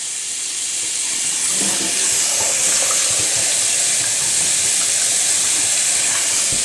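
Warm tap water running through the cavity of a whole raw turkey, a loud steady hissing rush that holds unbroken throughout, close by.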